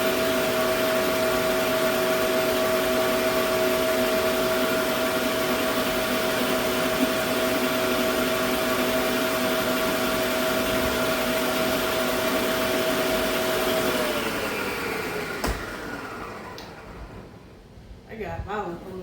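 A stand mixer kneads French bread dough with a loud, steady motor whine close by, then winds down toward the end into quieter clatter.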